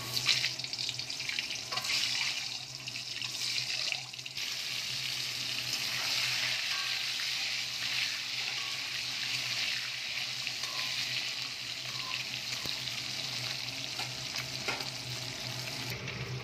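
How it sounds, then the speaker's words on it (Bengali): Eggs fry in hot oil seasoned with salt and turmeric in a wok, giving a steady, moderately quiet sizzling hiss that continues for the whole stretch with small pops and crackles. "নুন হলুদ দিয়ে দিয়েছি, এবার ডিমগুলো ভেজে নেব।"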